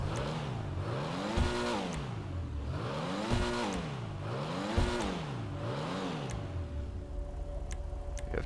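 Revving engine of a Pfister Comet SR, a Porsche-style sports car in the GTA video game, fitted with a level 4 engine upgrade and twin exhaust. Four loud, rhythmic rev sweeps climb and fall before it settles into a steady idle.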